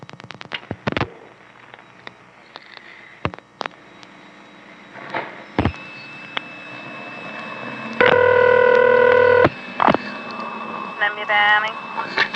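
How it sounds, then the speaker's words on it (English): A call dialed through a 1974 #5 crossbar telephone exchange in Annapolis, Maryland: sharp dial pulses and switching clicks, a steady multi-tone signal lasting about two seconds, then more relay clatter, all fairly close and clear. "I'm now going to dial a call to Intercept"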